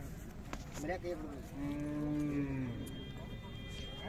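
A large Khillar cow gives a long, clear moo at a busy cattle fair, heard close and loud over a murmur of crowd noise.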